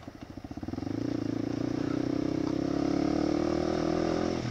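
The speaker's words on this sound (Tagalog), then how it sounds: "May naka-scooter pa, 'di ba?" A scooter engine passes close by on a rural road after rain, its steady buzzing drone building over the first second and holding loud and even until it cuts off at the end.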